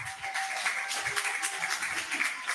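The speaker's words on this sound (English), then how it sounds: "come on, round of applause for St. George's Prep" A crowd at an outdoor World Poetry Day celebration in King's Square applauds St. George's Prep, a dense, even patter of many hands clapping that sounds fairly close and sustained.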